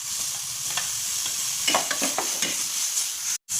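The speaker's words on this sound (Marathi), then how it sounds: "त्यानंतर आपल्याला थोडासा टोमॅटो पण परतून घ्यायचा आहे." Tomatoes fry in oil in a pan while cooking a chicken fry, a close steady sizzle with repeated spatula stirring scrapes, ending in a brief cutoff of silence, no talking.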